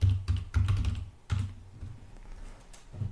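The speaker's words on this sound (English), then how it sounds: "we're going to type sudo mc, Midnight Commander" Someone types a terminal command on a computer keyboard, a burst of quick, close key clicks in uneven rhythm, then a few softer scattered taps and a final keystroke.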